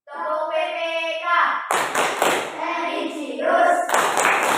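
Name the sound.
class doing the rhythmic PPK clap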